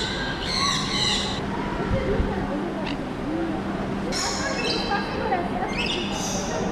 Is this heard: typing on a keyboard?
no